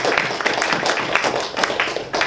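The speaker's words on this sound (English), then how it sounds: "Round of applause for her." Applause from a meeting audience after a Toastmasters officer is thanked. It sounds as a dense, steady patter of many hands clapping at once and carries on without a break.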